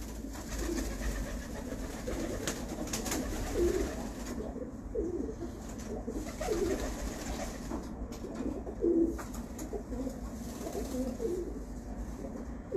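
A pigeon coos softly several times while being turned over in the hand, low and near, over a steady background rumble.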